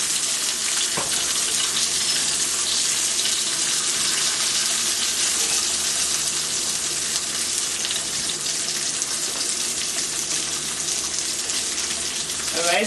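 Chicken pieces for an Italian chicken dish fry in a crowded pan with a loud, steady, close sizzle and crackle that runs unbroken throughout.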